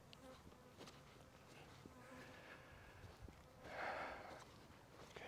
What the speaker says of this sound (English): I don't know where these bees are coming from. Bees checking me out.